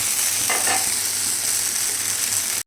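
Wheat rava dosa roasts on a pan over low heat, giving a steady close hiss and sizzle with a couple of soft scraping touches near the start. The sound cuts off abruptly at the end.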